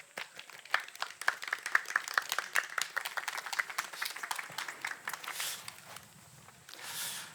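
An audience at a local cultural lecture gives fairly faint applause to welcome an author. Scattered individual claps fade out over several seconds, with some shuffling noise at the end.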